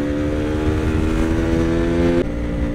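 Superbike engine running steadily while being ridden, a loud, sustained drone with a steady pitch that drops slightly near the end, alone with no talk.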